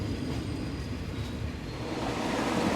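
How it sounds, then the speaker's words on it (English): A Thai Rapid Express train rolling slowly through the countryside, heard from on board as a steady, close rumble of wheels and carriage noise with faint rail clatter. "I could have walked beside the train, I think, Michelle."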